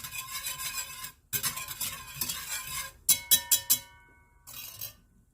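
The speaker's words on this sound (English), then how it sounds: "We're going to sprinkle it all over. And we're going to give this a good whisk." A whisk scrapes and stirs flour into melted butter in a pan, with bursts of brisk scraping, a short pause, then several sharp metallic clinks of the whisk against the pan before a final stir.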